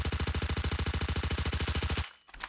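Rapid, very high-rate automatic fire from an upgraded machine gun in a video game, a steady loud burst of tightly spaced shots for about two seconds before cutting off abruptly.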